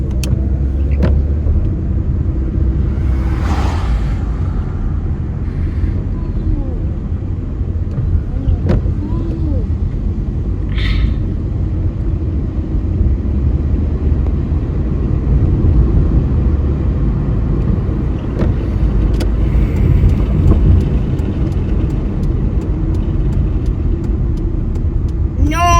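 A car engine rumbles steadily close by throughout, loud and continuous, with faint voices occasionally heard over it.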